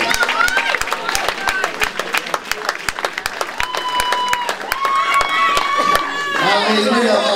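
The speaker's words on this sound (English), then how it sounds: "can I ask you to give both boxers a big round of applause" Applause at an amateur boxing event, Mike Mulvey of Timperley against Adam Mohammed of Metro, with a crowd clapping in sharp, scattered claps and cheers, mixed with chatter, whistles and a voice talking over the noise.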